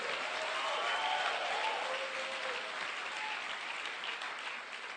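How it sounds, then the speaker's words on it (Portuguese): A church congregation claps and cheers steadily for the full stretch, a dense wash of applause with scattered whoops, moderately loud and without speech. "dê um aplauso a Jesus"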